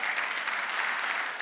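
A church congregation claps during a Sunday worship service: a short stretch of steady, even applause at moderate volume from a large room full of people.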